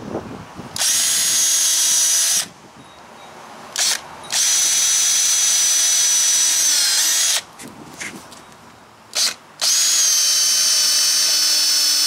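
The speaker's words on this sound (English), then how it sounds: "pre-drill our other holes" A power drill pre-drills holes for teardrop trailer fenders in three long, loud whining bursts separated by short pauses and brief blips, close up.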